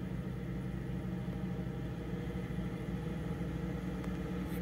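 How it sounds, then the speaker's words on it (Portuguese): A truck engine labours up a steep, heavy dirt road climb, a steady low droning rumble held throughout with no change in pitch; no one talks. "Olha a dificuldade para esse caminhão subir."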